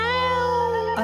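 A man in a Hindi horror film voices a loud, sustained imitation of screaming cats, one drawn-out wailing cry held for about a second before it breaks off.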